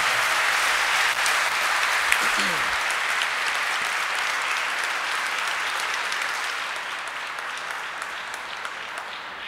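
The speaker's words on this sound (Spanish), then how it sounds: "extendamos el aplauso para ambos expositores" Conference audience applauding two speakers at the close of a session at a congress on the digital society, a dense steady clapping from a large room, fairly distant, slowly fading toward the end.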